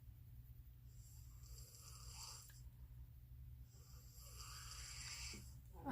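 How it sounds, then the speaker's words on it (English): A person snoring in the background, two slow drawn-out rasping breaths, faint and distant over a low steady hum. "Had to remove the snoring from the background. That girl can snore."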